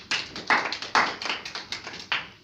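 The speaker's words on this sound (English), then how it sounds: "let's give a big round of applause to them" A small group at a club meeting claps briefly, a sparse run of about eight distinct, fairly close hand claps in an uneven rhythm.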